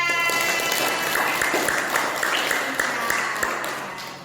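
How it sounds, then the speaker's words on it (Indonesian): A small group in an academic coaching session claps for a participant: scattered, moderately loud applause with a faint hum underneath, tapering off after a few seconds. "tepuk tangan untuk Dita"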